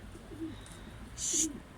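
A breeding pigeon coos softly while courting indoors, two low, brief coo phrases separated by a pause, faint against a quiet background.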